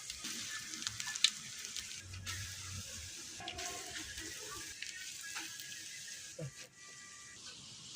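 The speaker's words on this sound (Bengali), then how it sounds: "এখন আমি ভাজে নিব।" Mustard flower fritters fry in hot oil with a faint, steady sizzle and a few soft clinks and scrapes of utensils, quiet throughout and fading slightly near the end.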